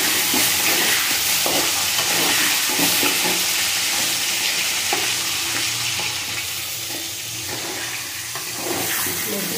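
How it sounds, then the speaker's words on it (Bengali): Salted potatoes frying in a pan for a Bengali-style egg curry, a loud, continuous close sizzle with stirring scrapes throughout. "আলুর মধ্যে একটু লবণ দেবো, আলুগুলো ভেজে দেবো।"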